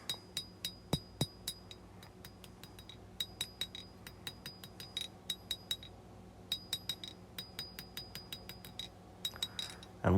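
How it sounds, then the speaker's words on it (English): Hammer blows ring out on an anvil as the bevel is forged into a small hand-made knife blade, steady bright strikes in clusters separated by brief pauses, close by. "We'll start hammering in the bevel."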